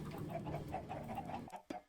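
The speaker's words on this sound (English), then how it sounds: "time to add way too many chickens to this thing" Chickens cluck in a Minecraft video game, a steady run of short, evenly spaced clucks at low volume that ends with a couple of sharper clicks.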